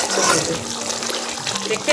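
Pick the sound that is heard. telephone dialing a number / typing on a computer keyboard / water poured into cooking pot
water poured into cooking pot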